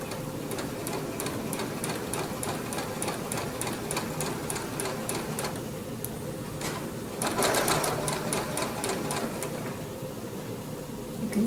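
A sewing machine runs a blanket stitch along a quilt binding, its rapid needle ticking steady and close, followed by a short louder burst of stitching near the end.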